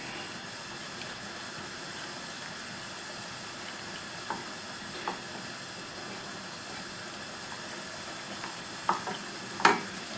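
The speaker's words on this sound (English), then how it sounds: "Still blending in the milk." Milk is stirred into a cauliflower cheese sauce in a pan, a soft steady swishing with a few faint clinks of the spoon growing louder toward the end.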